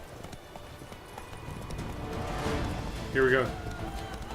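Roach the horse galloping in The Witcher 3, rapid rhythmic hoofbeats building over a few seconds, with a man urging the horse on and a brief whinny-like cry near the end.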